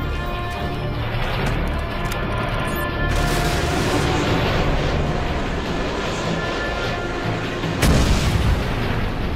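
Missile strikes in the video game Call of Duty Modern Warfare 2 come through as a continuous roaring rumble. A heavy burst swells at about three seconds and a sharp boom hits near the end.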